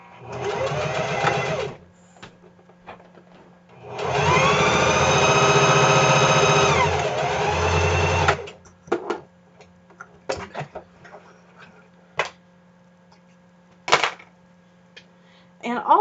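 A sewing machine stitches back and forth, back tacking and overlocking over the middle of a seam on a Mini Marcel garment, with two long steady runs of motor whir, then short clicking bursts and faint ticks.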